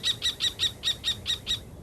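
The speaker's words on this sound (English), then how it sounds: "that is home to a pair of kestrels" A pair of kestrels in Iran give a fast run of about eight sharp, high, evenly spaced calls that stop abruptly, heard alone and fairly clear.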